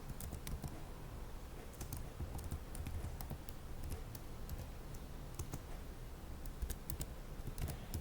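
Fingers type commands on a computer keyboard for a switch configuration in Packet Tracer, a continuous close patter of quick key clicks with occasional sharper strikes, with no talking.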